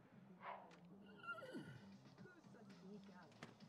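A horse or unicorn in The Sims 3 gives one clear whinny with a falling tail, fairly faint over soft game ambience and a low voice murmur.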